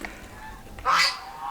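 Geese honk loudly in a goose and turkey pen during breeding season, a single strong honking burst rising after a quiet moment of faint farmyard background.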